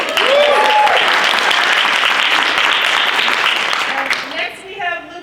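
Audience applause at a panel discussion and partner convening, a dense burst of clapping filling most of the span and tapering off at the end, with a voice speaking briefly over it.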